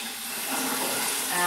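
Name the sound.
water running from a tap for a hand rinse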